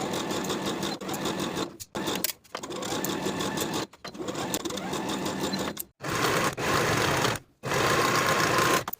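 A sewing machine stitches sleeves onto the bodice of a half-zip sweatshirt with a 3/8 inch seam allowance, running in loud, close, rapid whirring bursts broken by several short pauses.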